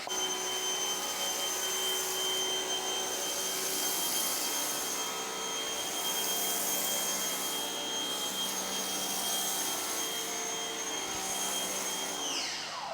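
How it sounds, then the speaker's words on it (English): A foam gun sprays Incredible Suds car shampoo onto a car in a steady, continuous hiss with a faint whine, close and even in level for the whole stretch, with no talk. "we're going to grab our canister with the foam gun and canister filled with the Incredible Suds, and we're going to put a nice thick layer on there"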